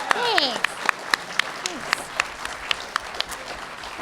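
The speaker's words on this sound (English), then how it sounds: "I think that that's worthy of a bit of applause" Light scattered clapping from a convention panel audience with voice actors on stage, sharp individual claps spaced out under a brief voice and background murmur.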